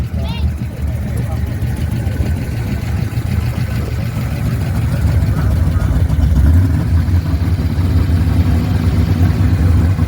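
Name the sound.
1970 custom car engine idling at car show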